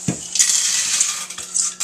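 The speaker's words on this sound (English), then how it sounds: "you're going to take your pot and you're going to add your beans" Dry beans clatter into a cooking pot for boiling, a close, bright rattling and pinging of hard little pieces against metal that pours on fairly steadily with a few sharper hits.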